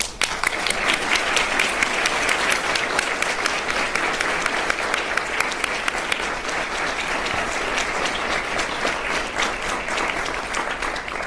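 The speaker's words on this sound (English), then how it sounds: "Round of applause, please." A sustained round of applause from an audience at a county prosecutor's gun violence commission event, many hands clapping densely and evenly throughout, close and loud with no speech over it.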